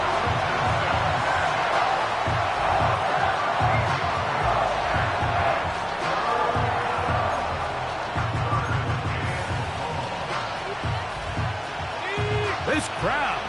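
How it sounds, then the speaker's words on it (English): A football stadium crowd at a Colts versus Packers game roars steadily for a third-down play, a loud, dense wall of cheering and whooping with occasional sharp shouts, while a commentator talks over it throughout. "This crowd into it now as we get to third down."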